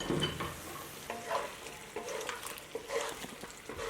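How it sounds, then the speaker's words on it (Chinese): Sliced green garlic leaves and red pepper slices are stir-fried in oil with softened starch lumps and pork in a wok. A steady sizzle is broken by repeated scraping strokes of the spatula. "就可以加上切好的青蒜叶和红椒片翻炒了"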